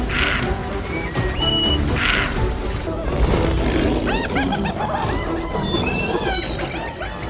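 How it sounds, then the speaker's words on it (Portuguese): A lion roars in the Serengeti wild, deep rumbling bursts mixed with other animal calls and a dramatic music bed, while a narrator speaks over much of it. "O rugido ecoou por toda a área, fazendo o predador correr."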